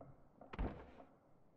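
Door in the horror survival game Darkwood, a single muffled thunk or knock peaking mid-clip against a quiet, low ambient background, fairly soft and somewhat distant.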